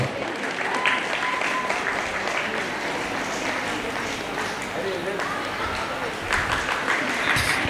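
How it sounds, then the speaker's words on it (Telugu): A crowd claps steadily and loudly throughout, a dense continuous applause with scattered cheers and voices mixed in. "గట్టిగా చప్పట్లు కొట్టనమ్మా"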